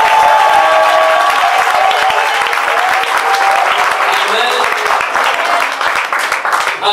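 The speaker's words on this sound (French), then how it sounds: "donne une forte acclamation à Jésus." A church congregation gives a loud acclamation at a prophetic worship service, with dense sustained clapping and cheering close by, shouts and voices mixed through it.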